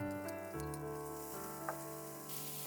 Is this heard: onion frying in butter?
yes